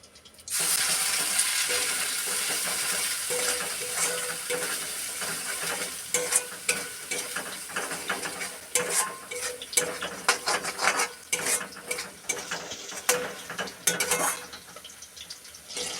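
Kharkol leaf paste hits hot mustard oil in a pan with a loud sudden sizzle that holds steady, then a spatula scrapes and clatters against the pan in repeated irregular strokes as the frying quiets down.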